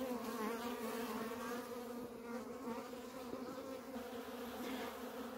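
Honey bees buzzing at a hive on a homestead, a continuous dense drone of many insects held steady and fairly faint, with no speech over it.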